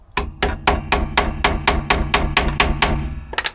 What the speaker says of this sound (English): I've had to hammer a 7mm hex head onto it.